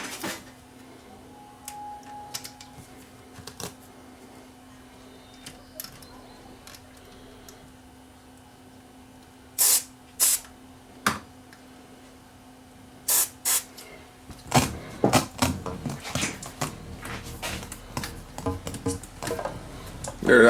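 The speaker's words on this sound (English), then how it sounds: "So let's get some contact cleaner in. We'll clean all these controls up" Contact cleaner sprays in short bursts into the controls of a Harman Kardon CD491 cassette deck, several quick hissing spurts after a quiet stretch of faint clicks and handling, growing more frequent toward the end.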